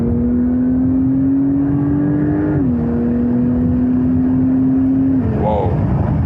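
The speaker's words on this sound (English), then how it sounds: "go back to third gear for example, and then I can accelerate out" A Porsche 911 Turbo S of the 992 generation pulls hard in third gear on a wet road, its engine drone loud and steady and climbing gradually, with brief dips in pitch partway through.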